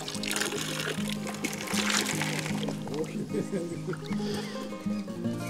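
Gravel and water wash through a gold sluice in a steady, close pouring and trickling flow, with pebbles rattling and knocking throughout and a voice talking over it.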